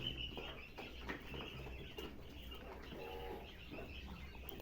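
Pet birds kept indoors in a room coo and chirp softly, the calls faint and scattered over a low steady background.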